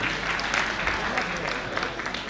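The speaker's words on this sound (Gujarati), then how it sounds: "દેવેન્દ્રભાઈને જોરદાર તાળીઓથી વધાવીએ" An audience claps for Devendrabhai, a singer and harmonium player, at an honouring event, with steady dense applause filling the hall and a murmur of crowd noise beneath.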